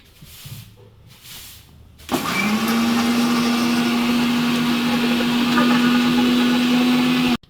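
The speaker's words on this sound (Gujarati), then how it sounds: "પછી ટમેટા તો જલ્દી થઈ જાય એટલે એને પછી કરતા હવે ભગાડું છું મિક્સર ત્રીજા ગેરમાં" A mixer grinder blending tomatoes on third speed starts abruptly after quiet kitchen sounds, then runs as a loud, steady motor whine close by until it switches off.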